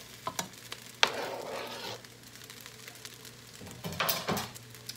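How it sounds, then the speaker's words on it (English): Mushrooms frying in a pan for vegan fried rice, a soft sizzle broken by scraping stirs and a sharp utensil clack near the start and again toward the end. "I'm just gonna put my mushrooms in because I want them to just kind of warm through"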